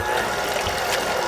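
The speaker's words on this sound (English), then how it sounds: "We're gonna bring this right over to our mixer and put it on low." An electric mixer runs on low while mixing pumpkin cheesecake filling, a brief steady mechanical whir with grinding, ratchet-like texture, close and moderately loud with no voices.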